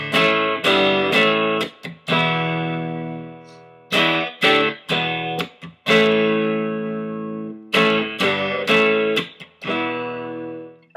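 An electric guitar with overdrive chugs through a song chorus, loud and close, with rhythmic chord strums, short choked gaps and ringing chords, played alone without talking.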